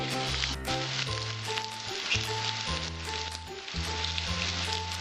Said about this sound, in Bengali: এবার আলু চিংড়ি মাছ একই সঙ্গে আমি সব ছেড়ে দিলাম। দুই মিনিট কষাবো